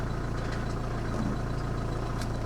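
An Audi A6 engine idles just after starting, a steady, rhythmic low-pitched chug with a fast, even pulse and faint mechanical ticking, continuous and moderately close, with no talking.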